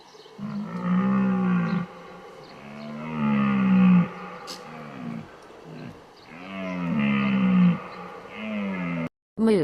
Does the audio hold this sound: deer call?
yes